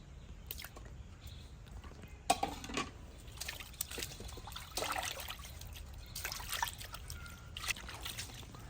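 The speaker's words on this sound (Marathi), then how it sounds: "आपण आता मासे धुवून घेणार आहोत" Water trickles and splashes softly while pomfret fish are washed by hand, with intermittent sloshing and wet handling sounds, close and quiet, with no talk.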